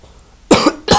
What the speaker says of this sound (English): Oh, sorry about the coughing.